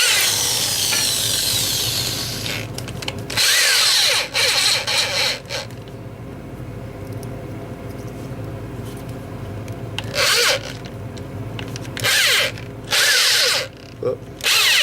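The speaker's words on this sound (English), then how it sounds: "So I'm going to drill these holes out." A power drill bores holes through leather with a drill bit, whirring loudly in several bursts separated by quieter pauses, with faint rubbing and handling noise between runs.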